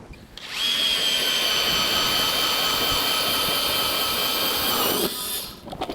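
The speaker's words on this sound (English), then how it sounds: "We need to drill a hole of ice to see how deep it is." A powered ice auger drills a hole through lake ice with a loud, continuous high-pitched whine, starting abruptly and cutting off near the end.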